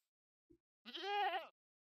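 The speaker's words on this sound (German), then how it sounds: "Ist das eine Ziege?" A goat in Minecraft gives one short wavering bleat, clear and fairly near, after a faint click, with no talk over it.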